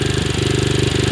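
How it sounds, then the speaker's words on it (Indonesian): A motorcycle engine runs steadily close by on a road trip across Sumbawa, its loud rhythmic low chug pulsing evenly with a faint rattle and no speech. "motor selalu hidup"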